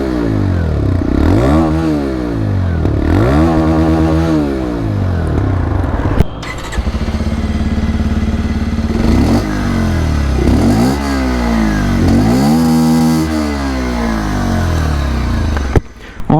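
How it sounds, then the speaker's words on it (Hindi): Two 125cc commuter motorcycles, a Bajaj Pulsar 125 and a TVS Raider 125, blip their exhausts in turn, with repeated sharp revs rising and falling in a steady rhythm and loud, close engine note between bursts. "अब दोनों ही बाइक की जो एग्जॉस्ट साउंड है वो मैं आप लोगों को बारी बारी से सुना दूँ"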